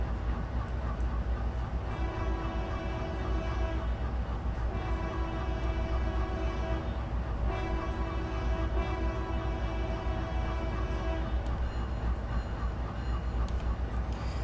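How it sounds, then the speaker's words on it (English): An EMD locomotive horn in a train simulator game sounds in three long, loud blasts with short gaps, over a steady low engine rumble. "So we can just go ahead and listen to the horn really quickly."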